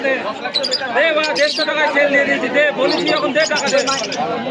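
Caged lovebirds, budgerigars and fantail pigeons at the Shantipur pigeon market chirp and tweet in a busy jumble of high, rapid calls, heard under someone talking close by.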